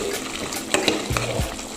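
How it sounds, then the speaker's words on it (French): Onions and curry stirred in a cooking pot for beef kidneys, a spoon scraping and clattering against the pot in a few distinct knocks over a steady frying hiss, close and moderately loud, with no talk. "je vais mettre le tout dans la marmite. Et je mélange le tout."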